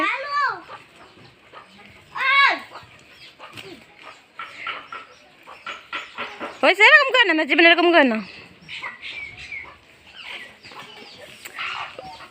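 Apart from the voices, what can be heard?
chickens clucking while walking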